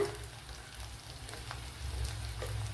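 Dried red chillies, cut into pieces, and curry leaves fry in hot oil for an egg perattu, giving a steady, fairly quiet sizzle with faint crackles throughout.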